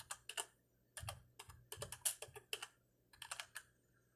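A Razer Lycosa keyboard is typed on in soft, quiet clusters of keystrokes, with short bursts of clicks separated by brief pauses.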